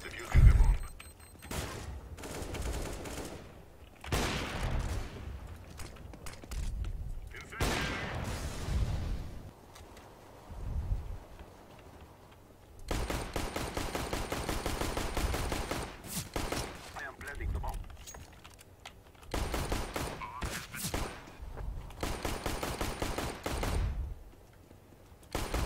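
Bursts of rapid gunfire from a first-person shooter game, loud and close, coming in several clusters with short pauses between volleys, while a voice talks at points.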